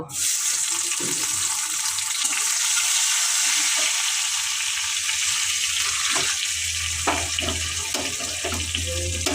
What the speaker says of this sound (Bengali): জিরে দিয়েছি তেলের মধ্যে